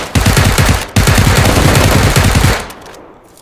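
Rapid automatic gunfire from the PUBG video game rattles loud and close in two sustained bursts separated by a brief gap, then cuts off into a quiet tail.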